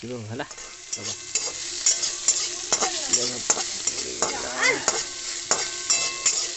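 Potato and bean bhaja frying and being stirred in a pan for a home breakfast, with sizzling under repeated scraping and clattering strokes of a spatula, close and fairly loud.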